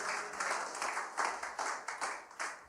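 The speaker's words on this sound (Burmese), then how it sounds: "လက်ခုပ်တီးရအောင်" A church congregation claps along at a Myanmar Tuesday worship service, roughly a dozen uneven hand claps in quick succession at moderate volume, with no speech over them.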